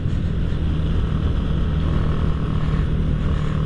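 A Honda Astrea Grand motorcycle engine fitted with a Jupiter carburetor runs at full throttle, giving a loud, steady, droning roar with constant road and wind noise and no voices.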